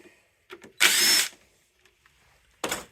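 A handheld power tool loosens a screw on a Honda Trail 70 engine, giving one loud close whirring burst of about half a second, then a quieter gap and a second short burst.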